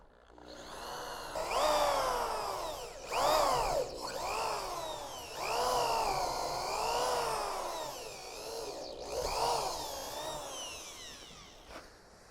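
A power drill whines through a hole in a 6x6 post for a concealed post bracket, in several rising and falling bursts, motor pitch sagging under load, with brief pauses between pushes.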